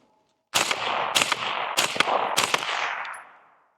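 Four sharp gunshots from a CMMG 556K rifle ring out outdoors at uneven intervals, loud and close, each followed by a ringing echo that slowly fades.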